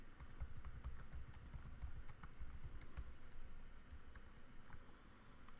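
Steady typing on a computer keyboard fills the stretch, a quiet, continuous patter of fast key clicks with no talk over it.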